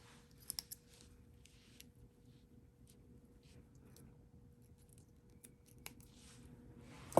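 Scissors snip through beading thread at a bracelet-making table with a couple of quick, faint snips near the start. After them comes a long quiet stretch with soft handling noise, ending on a louder click.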